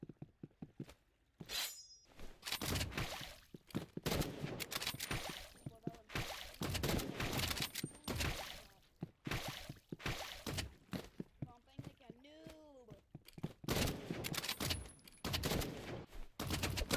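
Dense bursts of assault rifle fire rattle through a video game match in quick strings and pauses, mixed with clattering game effects while a voice talks over parts of it.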